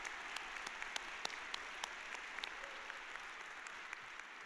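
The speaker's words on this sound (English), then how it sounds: "I think they deserve a special round of applause for all the help they've given" A graduation ceremony audience at a medical school commencement applauds the faculty, a soft distant patter of clapping with a few crisp nearer claps popping out, steady and quiet throughout.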